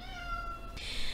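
A pet cat, no longer a kitten, gives a single drawn-out meow for attention, close and clear, rising into a brighter whine at the end with no talking.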